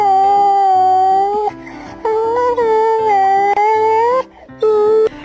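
A dog howls loudly and close by in long, wavering, sustained cries, several drawn-out howls broken by brief pauses.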